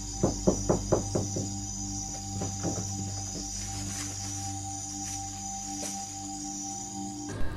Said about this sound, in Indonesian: Terdengar dengan jelas adanya suara ketukan yang sangat kuat yang berasal dari sekitar gubuk tersebut